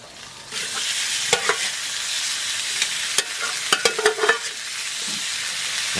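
Marinated chicken tipped into a hot pan, a loud close sizzle rising after a brief pour, then repeated sharp clacks of a spoon stirring against the pan, no speech.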